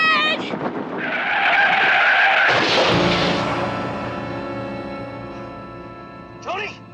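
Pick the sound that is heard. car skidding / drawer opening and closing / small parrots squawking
car skidding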